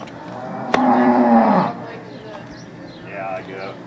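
Cattle on a family farm give one loud, close moo lasting about a second, followed by a softer, shorter lowing call a little later amid quiet farmyard background.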